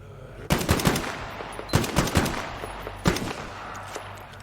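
Gunfire in the video game Metro Exodus, three sharp bursts of rapid shots with short gaps between them, loud and close, no talk.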